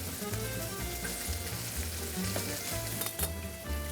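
Galbani mozzarella grilled cheese sizzles and crackles steadily on a hot waffle, a close, continuous frying hiss with a faint rhythmic low hum underneath and no talking.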